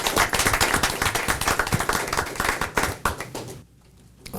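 A round of applause at a city council meeting: brisk, close clapping from a small group of hands that stops abruptly near the end, leaving a brief quiet.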